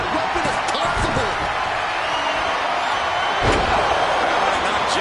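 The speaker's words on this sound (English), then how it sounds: "Looking like John Henry swinging the hammer like that." Heavy hammer strike in a wrestling video game, a loud slamming thud around mid-clip over continuous crowd roar, with talk alongside.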